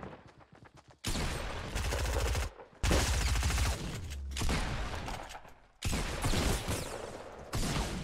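Rapid gunfire bursts in the video game Fortnite, loud automatic volleys in several long strings separated by short gaps.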